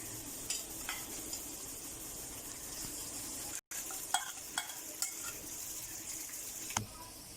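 Steady oil sizzle from onions frying in a pan, with a few light clinks and stirring scrapes scattered throughout.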